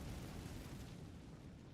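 A fire spell cast in the Hogwarts Legacy video game gives a soft, low, rumbling burst that holds steady and faint, with no speech.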